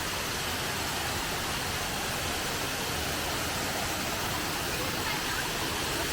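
Erawan waterfall in Thailand roars as a dense, constant rush of falling water, loud and close, a broad unbroken wash of sound through the whole stretch.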